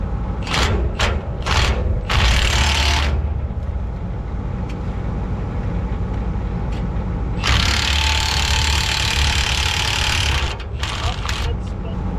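Long bolts on a soybean planter being wrenched out in the field, heard as two stretches of loud, rapid mechanical ratcheting over a steady low engine rumble, with brief clanks between them.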